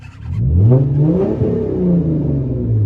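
A Hyundai Genesis Coupe revs hard at a busy gas station, its engine note loud and close as it climbs and falls through a couple of swells, running steadily without any talk.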